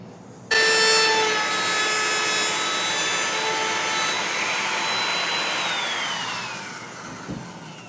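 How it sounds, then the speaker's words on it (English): Router fitted with a 1/4 inch roundover bit cutting along the edges of a wooden table, a loud steady high-pitched whine with shifting tones that runs without pause for about seven seconds and then spins down. "if we hold the router here like this, we should be able to get these 3 edges routed with that 1/4 inch round"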